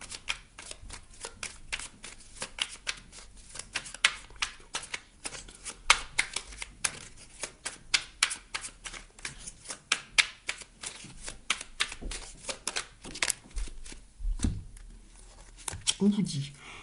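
A deck of oracle cards is shuffled again and again, giving dense rapid riffling flutters in bursts, close and fairly quiet, with a few soft handling thumps near the end.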